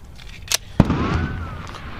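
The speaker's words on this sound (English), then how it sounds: "Alright, it's time to shoot it with the 9." A 9mm full metal jacket round, 124 grain, fired from a Springfield 1911 pistol at an ammunition box ten yards away: one sharp, loud report followed by a brief ringing decay, no voices.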